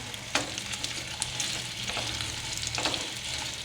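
Arbi (taro root) frying in oil on a high flame for an Arvi Gosht salan, a steady close sizzle with a few brief clicks of stirring, no voices.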